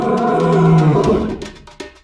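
A lion on the savanna lets out a loud, deep roar that swells and then fades into breathy grunts, heard close and alone.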